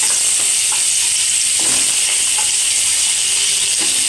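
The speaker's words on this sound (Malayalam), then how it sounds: "എണ്ണ ചൂടായിട്ടുണ്ട്, നമുക്ക് പടവലങ്ങ ഇടാം." Snake gourd pieces hit hot oil in a pan and set off a loud, steady frying sizzle and hiss that runs the whole time, with faint stirring clicks and no voices.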